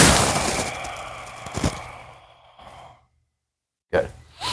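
A loud, breathy exhale during a Ki Gong breathing exercise, rising in a burst and fading over a couple of seconds, followed by silence and then a fresh breath.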